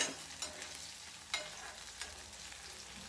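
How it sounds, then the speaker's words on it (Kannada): Onion and thinly sliced rounds of green chili fry in a pan, a steady close sizzle with occasional stirring scrapes and clicks, no talking. "ಈಗ ಈ ಆನಿಯನ್ ಏನಿದೆ ಇದು ಸ್ವಲ್ಪ ಗೋಲ್ಡನ್ ಬ್ರೌನ್ ಕಲರ್ಗೆ ಟರ್ನ್ ಆಗಬೇಕು. ಅಲ್ಲಿವರೆಗೂ ನಾವು ಇದನ್ನ ಫ್ರೈ ಮಾಡ್ಕೊಳ್ಳೋಣ."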